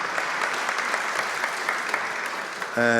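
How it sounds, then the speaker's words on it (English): Audience applause at a museum awards conference, sustained dense clapping from a large indoor crowd, fairly loud, ending as a musical tone begins. "Please applaud our speakers."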